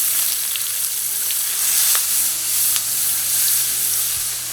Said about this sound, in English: We add the onions.